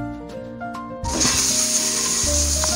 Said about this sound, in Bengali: ডিমগুলো এবার ভেজে নিচ্ছি।